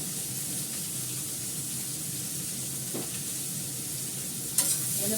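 Food fries in a pan with salt and turmeric and is stirred. A constant, close hissing sizzle carries through, with a faint scrape and one brief clatter near the end.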